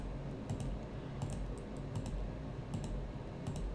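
Computer keyboard or mouse clicks while stepping through search matches in antique padlock research tools, a rapid run of light, close clicks at a fairly even pace with no talk.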